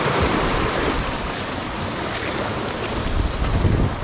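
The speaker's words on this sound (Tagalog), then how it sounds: "Nang babasa yung alon." Sea waves splash and wash on a rough, wavy shore in a continuous loud roar, with wind buffeting the microphone throughout.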